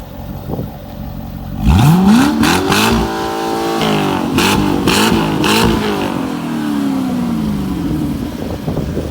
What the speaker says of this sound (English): it sounds pretty nice for a stock car